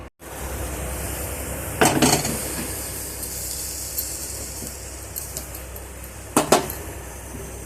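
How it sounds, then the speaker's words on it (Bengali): A lid set onto a pressure cooker of banana flower and water for boiling, with two sharp metallic clanks over a steady low hum in a kitchen. "দিয়ে ঢাকনাটা লাগিয়ে সেদ্ধ বসিয়ে দিচ্ছি"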